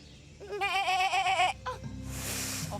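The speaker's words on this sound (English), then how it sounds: "I thought I could hear a goat." A goat bleats in a long wavering cry outdoors on a remote island, loud and close, followed by a shorter second call and then a rushing hiss.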